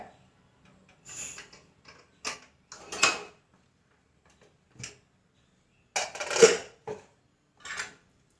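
A pressure cooker being opened after two whistles, heard as a handful of separate metallic clicks, clanks and lid knocks spaced irregularly over otherwise quiet background, fairly close.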